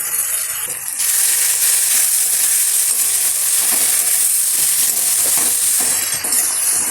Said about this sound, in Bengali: এই যে ভালো করে নেড়ে চেড়ে নিই।